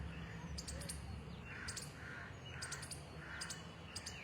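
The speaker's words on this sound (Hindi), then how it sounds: "लगातार चिड़िया की मधुर आवाज़ आ रही है" Small birds chirp in quick, high bursts that repeat every second or so. The calls are faint and sit over a low steady background hum.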